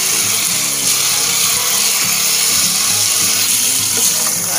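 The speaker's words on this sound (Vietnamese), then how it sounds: "Rồi mình xả nước cho đầy cái thùng này." Tap water pours loudly and continuously into a tank at a melon garden, a close, steady hissing gush with a low churning rumble beneath that holds its level throughout.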